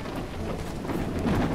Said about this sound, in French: Il y a le vent dans les feuilles, c'est plutôt sympa, mais on voit pas assez la pluie.